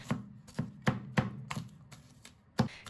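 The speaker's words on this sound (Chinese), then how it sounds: "再给它剁成蒜末" Kitchen knife mincing garlic on a cutting board: about eight sharp, separate chops with irregular gaps, close and clear, with no talking.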